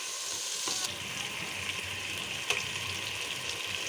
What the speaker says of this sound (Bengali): এটা আমি একটু ভেজে নেব মশলাটা